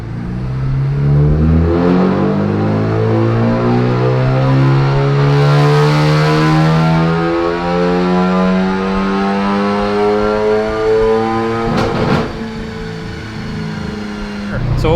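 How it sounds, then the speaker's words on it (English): Ford Focus ST engine on a dyno, tuned for E30 and heat-soaked, revving hard in a long loud rising pull toward redline, then backing off near the end. "we did a dyno pull, and we ran into red line"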